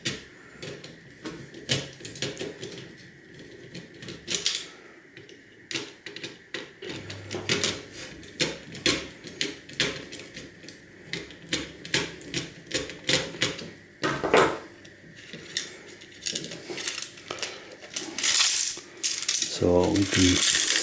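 Screws are worked out of a TV receiver box being taken apart for scrap, with close, irregular metallic clicks, taps and rattles of small parts, moderately loud and with no talking.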